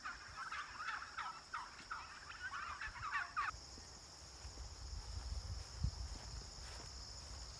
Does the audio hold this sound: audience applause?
no